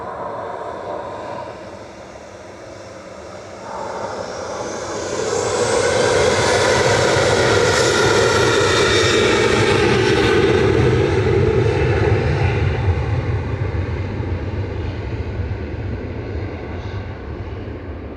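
A Ryanair airliner bound for Budapest roars off Manchester Airport's runway, its engine noise swelling from a distant rumble into a loud, sustained broadband roar that holds steady and then slowly fades, with no voices over it.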